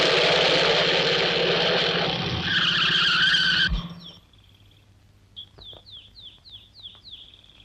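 A car in a Tamil comedy film revs and skids loudly as it swings around, tires screeching, then cuts off abruptly. Faint chirping birds and light background noise follow.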